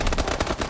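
Rapid automatic gunfire from the shooter video game Advanced Warfare, a dense burst of loud repeated shots filling the short moment.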